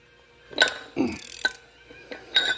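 Half-inch drive hand ratchet working on a Dana 60 axle kingpin, a few short clicking and clanking bursts of metal, close and fairly quiet, with gaps between strokes and no talk.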